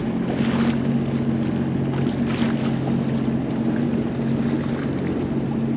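The Great Republic boat manoeuvring on the Niagara River, a steady low engine drone with harmonic hum and some wind noise, continuous throughout with no talk.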